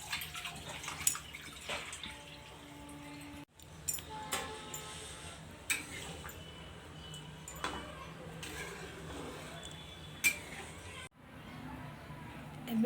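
Raw mutton being washed under running water gives a quiet wash of water with intermittent splashes, small knocks and clinks in a kitchen, and a voice talks now and then.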